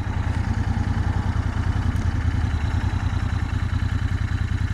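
Royal Enfield Interceptor 650 motorcycle engine idling up close, a steady, even low thrum of rapid regular pulses with a faint mechanical clatter on top and no talking.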